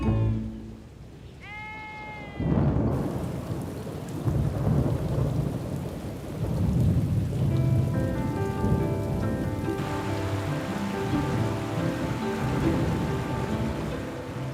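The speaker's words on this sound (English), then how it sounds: "With snowfall making way for rain, the burn is flowing rapidly." Steady rain falls in a winter forest as snow gives way to rain, a dense hiss that starts after a brief quieter opening with a few animal-like calls and continues loud and constant, with tonal bird or animal sounds layered on top.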